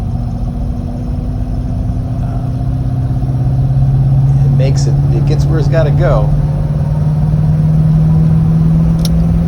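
Mark VI car cruising at freeway speed, a steady engine drone and road roar rising slightly in pitch as it accelerates, with someone talking over it throughout.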